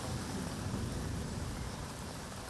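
Rain falls steadily in Byculla, Mumbai, a dense, even hiss of drops on surfaces with a low rumble underneath, unbroken for the whole moment.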